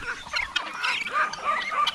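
Roosters and hens cluck and chatter on a backyard farm, several birds overlapping in busy, moderately distant calls.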